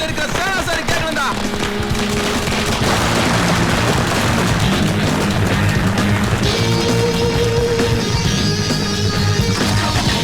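Firecrackers bursting in a rapid, dense barrage at a celebration, loud and continuous throughout with booming cracks layered over one another.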